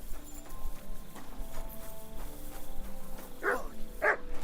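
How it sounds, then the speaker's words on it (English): A dog barks a couple of times in the Kingdom Come: Deliverance 2 video game, sharp and fairly close over steady horse hoof clip-clop and background game ambience. "No one wants to hear your barking."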